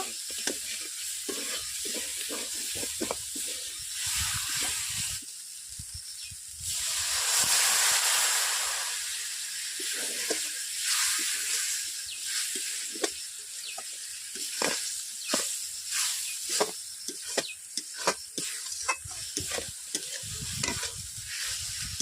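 Crab curry is sautéed in a pan, with a spoon stirring and scraping in repeated bursts over a steady sizzle that swells into a louder hiss partway through.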